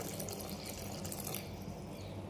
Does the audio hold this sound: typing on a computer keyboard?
no